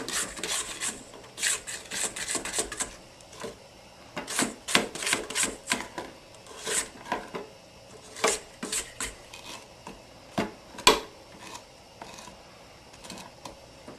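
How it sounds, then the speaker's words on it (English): A spatula scrapes down the sides of a mixing bowl of fluffy cookie dough for fudge-filled chocolate thumbprints, in repeated close rasping strokes with brief pauses between them and no talk. "So now we'll scrape down the bowl."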